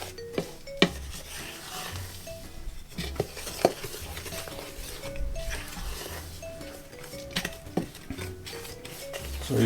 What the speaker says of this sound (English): make sure that your ingredients are mixed in properly